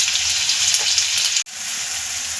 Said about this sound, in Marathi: हिरवी मिरची आणि लसूणचा ठेचा करून घेतला होता तो टाकून घेऊया